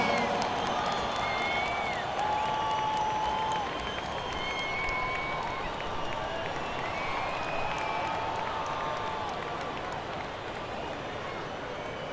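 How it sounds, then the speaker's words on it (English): Continuous crowd applause and cheering fill a large basketball arena in a video game, steady and loud throughout, with scattered whistles and shouts rising above the clapping. "One more big round of applause, fans."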